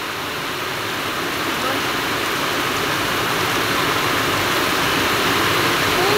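Heavy typhoon rain pours down in a steady, loud, dense roar with no letup, like water dumped from above.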